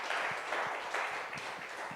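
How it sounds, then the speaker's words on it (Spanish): Church congregation applauds during a sermon, a faint, distant patter of clapping with soft regular pulses, low in level and continuing steadily for the short stretch. "Démosle un aplauso al Rey."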